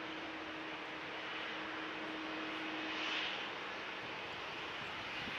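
A Ryanair jet taxiing out for departure at Manchester Airport, a steady distant engine hum with a faint whine, holding even and low throughout with no talk.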